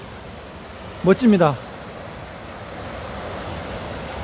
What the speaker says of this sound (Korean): 폭포 소리 들리나요?